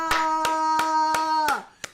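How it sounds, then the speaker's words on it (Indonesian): A congregation at a church service claps in unison, six sharp, evenly spaced hand claps over a sustained musical tone that fades before the final clap. "Yang percaya kasih tepuk tangan, katakan haleluya."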